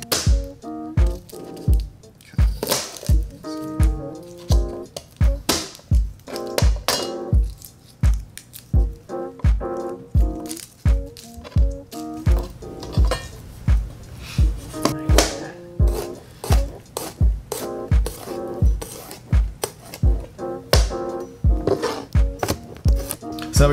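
A kitchen knife chops garlic cloves on a cutting board in a long run of sharp, close, rhythmic knocks with brief pauses between bursts.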